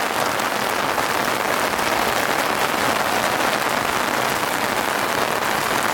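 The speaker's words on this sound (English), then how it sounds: "Rain's coming down real strong now." Heavy rain pours down steadily on a vehicle awning and rooftop tent, a loud, dense, unbroken hiss of drops drumming on fabric with no talk.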